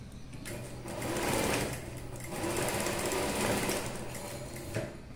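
A tailor's sewing machine stitches semi-patiala pants fabric in two close, steady whirring bursts, quieter between runs.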